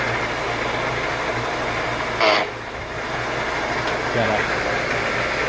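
An old turn-of-the-century Bradford lathe runs slowly in back gear with the bull gear engaged, giving a low steady mechanical hum and rumble throughout, with someone talking over it.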